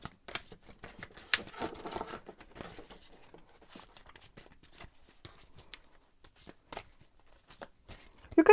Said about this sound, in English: I'm gonna shuffle the cards to see what the cards have to say about your strengths